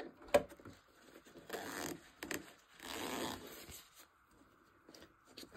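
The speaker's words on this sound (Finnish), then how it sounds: "nyt taas muista tässä vaiheessa avata tuo vetoketju auki" A zipper on a fabric pouch being sewn is pulled open in several quick rasping bursts with short pauses between them, close to the microphone and without speech.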